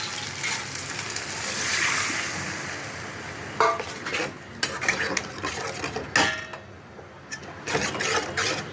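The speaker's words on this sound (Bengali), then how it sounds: "এখন আমি এই যে নারকেলের দুধটা এর মধ্যে দিয়ে দেবো" Coconut milk is poured into spice masala frying in oil in a pan, producing a steady sizzle with sharp intermittent clinks and scrapes of a spoon against the pan.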